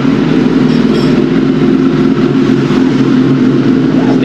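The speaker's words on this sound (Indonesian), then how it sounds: "Motor masih hidup." A motorcycle engine keeps idling at a track day at the Australian GP circuit, a loud, steady, continuous drone close by.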